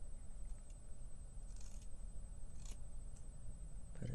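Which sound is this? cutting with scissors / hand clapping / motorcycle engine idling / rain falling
cutting with scissors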